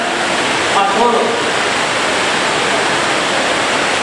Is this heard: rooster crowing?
no